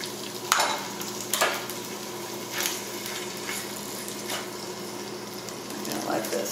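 Drained beef frying in a little oil in a skillet, a soft steady sizzle broken by a few stirring scrapes, close and alone with no talk.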